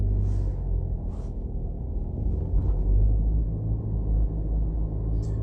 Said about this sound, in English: So as we drive through the tunnel,